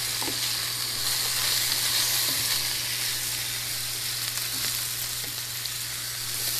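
A butternut squash and kale stir-fry sizzles steadily in a hot pan as it is stirred, a dense, even frying hiss with faint scraping that stays close and constant from start to finish.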